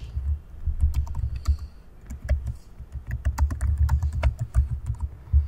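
Close, steady typing on a computer keyboard comes in uneven bursts of crisp keystrokes with brief pauses between runs, and no voices over it.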